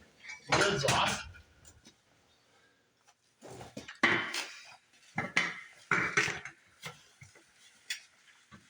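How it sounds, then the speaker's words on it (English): Metal pliers clink and clank against the tight lids of primer and glue cans, in several close bursts of short metallic knocks and scrapes separated by pauses. "I'm going to need a pair of pliers that are up there somewhere to get these lids off"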